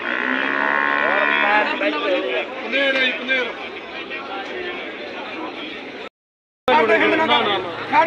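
Buffalo low loudly in long, drawn-out calls amid a busy livestock market in Mansa, Punjab, with people chattering nearby; a brief dropout breaks the sound near the end.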